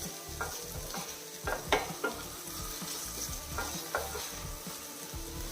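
Finely chopped tomatoes sauté in a pan over a medium flame, a soft steady sizzle broken by periodic stirring scrapes and light taps, close-up and quiet with no voices.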